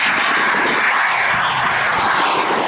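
A large scale model Grumman-style Cougar jet, painted orange, flying at a model aircraft display, giving a loud continuous roaring whoosh of turbine engine noise that holds steady throughout with no talk.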